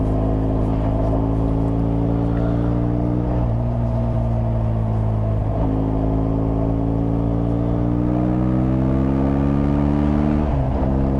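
A 2013 BMW R1200GS motorcycle engine drones loudly and steadily while riding, with strong low harmonics that rise and dip as revs change, plus occasional brief gear-shift breaks.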